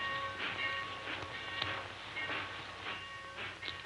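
Steady rumbling rail noise with a constant hiss and faint rhythmic clatter, like riding inside a moving train carriage.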